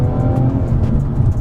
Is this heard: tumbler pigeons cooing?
no